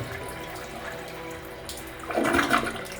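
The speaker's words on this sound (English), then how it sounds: "Your toilet is actually a flush toilet." A hotel flush toilet flushes close by, starting as a steady trickle and swelling into a louder rushing gurgle near the end of the clip, with no talking.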